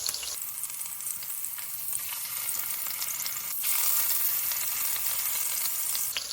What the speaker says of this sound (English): 30 seconds on each side should be just enough to have it seared on all the sides